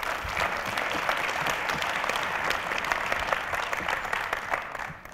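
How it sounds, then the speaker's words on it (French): Sustained, steady applause from a conference audience in a hall, many hands clapping at an even, full level for about five seconds before it begins to fade at the very end. "Yann, Greg et Jérôme, on peut les applaudir."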